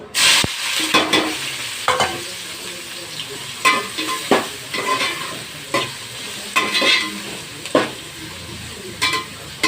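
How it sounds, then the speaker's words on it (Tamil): Onions frying in hot oil with cardamom, cinnamon and cloves for hotel-style kuska, a steady close sizzle broken by repeated scraping stirs of a spoon against the pan. "பொறிஞ்ச உடனே வெங்காயம் போட்டுக்கோ"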